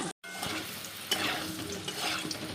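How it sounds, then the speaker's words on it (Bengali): Oil sizzles steadily in a pan as potatoes fry, with soft scraping of stirring and a brief dropout near the start. "আলুটা ভেজে দিচ্ছি"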